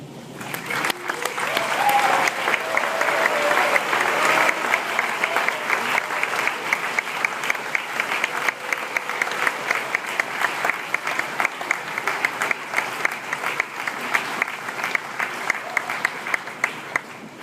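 A graduating class at a LaSallian school ceremony claps and cheers for parents and teachers in a sustained, loud, dense round of applause that holds for the full stretch, with faint voices mixed in.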